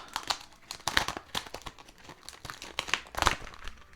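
Beauty box packaging is peeled open up close: crisp crinkling and tearing bursts of paper or plastic come in irregular clusters, with quiet pauses between them.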